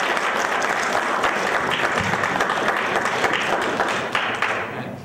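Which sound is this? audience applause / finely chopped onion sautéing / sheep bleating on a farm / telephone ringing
audience applause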